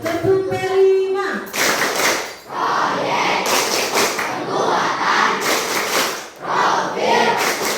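A group of schoolchildren claps in rhythmic bursts during a classroom activity, loud and close, with shouts and voices mixed in between the clapping patterns.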